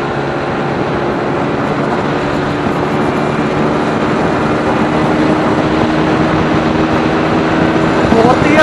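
A TVS Apache RTR 160 4V BS-VI motorcycle pulls hard in fourth gear, its engine note a steady, loud drone that builds slightly, mixed with wind rush, and no talk.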